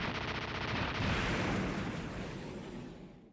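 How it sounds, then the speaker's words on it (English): Explosion sound effects in a video game, a dense rumbling blast with crackling debris that holds then fades, faint in level. "Why do the explosion sound effects suck ass in this?"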